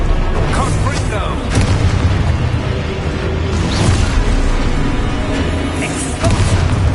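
Confringo blasting spell explosions in Hogwarts Legacy, heavy booming bursts rolling continuously under loud combat noise, with a character voice calling out over the blasts.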